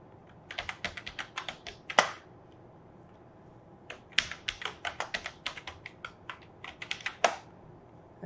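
A computer keyboard typed on rapidly to enter a download search in a web browser: close, crisp key taps in two fast bursts separated by a short pause, with a few louder keystrokes standing out.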